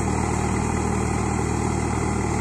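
A tractor ploughs a village terrace field, its engine holding a steady, continuous mid-pitched drone at moderate distance without pause.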